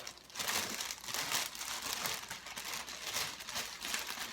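Paper crinkles and rustles steadily as a dog's pedigree certificate is drawn out of a Dooney and Bourke handbag, with close, continuous crumpling in irregular bursts and no talk.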